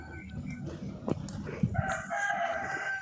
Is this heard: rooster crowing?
yes